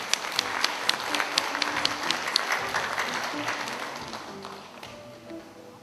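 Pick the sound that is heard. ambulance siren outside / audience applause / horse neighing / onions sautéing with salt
audience applause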